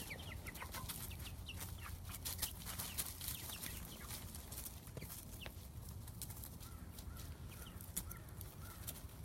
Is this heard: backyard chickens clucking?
yes